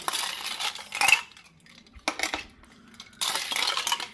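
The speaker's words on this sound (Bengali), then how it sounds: "এবার আমি গুলে নিচ্ছি ভালো করে, যেহেতু বিট লবণটা দিলাম। আর দিয়ে দিচ্ছি এর মধ্যে আইস কিউব।" A spoon stirs watermelon juice with black salt in a glass, then ice cubes drop in. The result is a run of close clinks and chinks with brief gaps.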